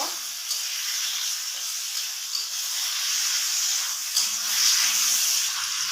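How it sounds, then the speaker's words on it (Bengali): Taro leaves frying with onion in a pan give a steady, bright sizzle and hiss that holds evenly the whole time, close up and alone, with slight stirring shifts near the end. "এখন আমি কচু শাকগুলো ভেজে দেবো ভালো করে"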